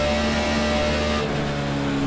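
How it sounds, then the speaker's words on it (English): Ford Gen6 Indy car engine in iRacing screams at full throttle, a loud, steady high-pitched roar with a brief pitch shift midway as the gears change, close and continuous with no talking. "let's open the throttle and let this engine roar"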